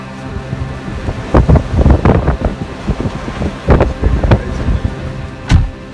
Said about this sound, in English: the wind is for sure is ridiculous